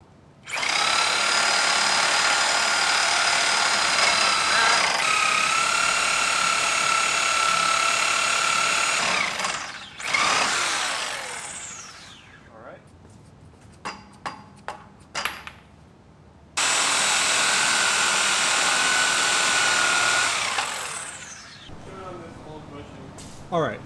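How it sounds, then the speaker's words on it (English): A Sawzall reciprocating saw cuts through a VW mk4 rear suspension bushing in loud, sustained bursts, with a long run, a pause filled with short clanks and taps, then another long cutting stretch. "I'm going to cut the bushing with a Sawzall"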